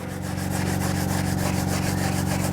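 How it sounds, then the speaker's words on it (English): A red Scotch-Brite pad is rubbed back and forth over an engine cylinder head surface during a head gasket job, producing a steady, close, continuous scuffing and rubbing sound with a quick repeating rhythm and no talking. "and scuff the surface, and you're going to get all those marks from the die grinder completely out of the cylinder head"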